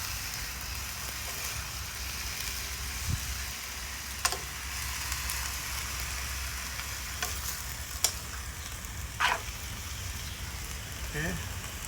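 Spinach and eggplant sizzle steadily in a pot as they are stirred, with occasional scrapes and knocks of the spoon over the constant frying hiss.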